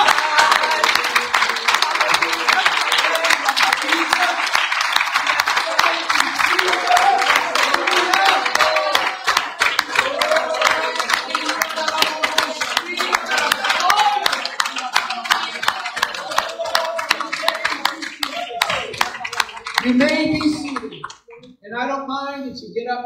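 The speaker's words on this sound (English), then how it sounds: "Let's give the Lord another hand clap of praise." A church congregation claps in a fast, steady rhythm as praise during an All Nations Sunday service, loud and sustained with crowd noise mixed in. The clapping fades near the end as voices take over.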